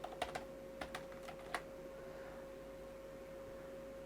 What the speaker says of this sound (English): I will type it hello world.